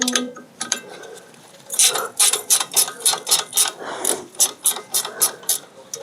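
Wrenches working on the brake caliper bolts of a Ford Puma during a front brake pad change, 13 and 17 mm spanners, rapid ratcheting clicks in irregular bursts, close and fairly loud, with no talk.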